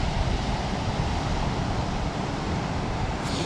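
A constant, even wash of Atlantic Ocean waves on the beach at Ormond Beach, Florida, in the early morning, heard as an unbroken, moderately loud rushing roar mixed with a little wind noise.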